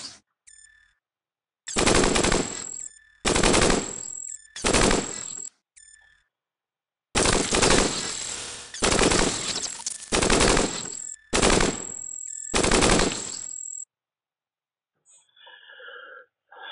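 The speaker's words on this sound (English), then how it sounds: "So we accidentally shot the scavenger." Gunfire in the video game Cogmind arrives as loud synthetic bursts, about eight blocks of rapid fire broken by short silences, with softer electronic tones near the end.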